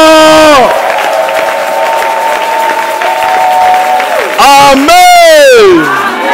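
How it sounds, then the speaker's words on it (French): Members of a church congregation at a prayer service shout and cheer joyfully amid clapping, a loud continuous wave of voices with rising whoops and a sharp swell of shouting toward the end. "Poussez les cris de joie."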